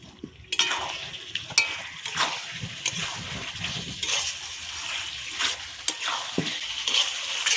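Potatoes stirred into a frying beef curry, a busy sizzle with repeated scraping and clattering of a spoon against the pot, close and continuous throughout.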